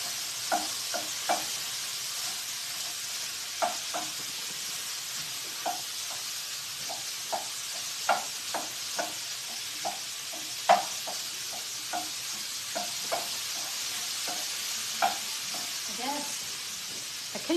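Taco meat browning in a pan gives off a steady broadband sizzle, broken by frequent sharp clicks and scrapes of stirring, fairly close, with no talking.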